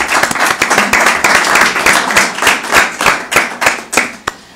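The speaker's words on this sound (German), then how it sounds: "Applaus" A jubilee audience applauds to welcome a guest, loud, close applause where individual sharp claps stand out clearly in an uneven rhythm, thinning toward the end to a few last claps.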